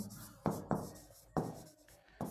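Chalk or marker strokes on a classroom board, a few short scratchy bursts in an irregular rhythm, close and moderately loud with no talking.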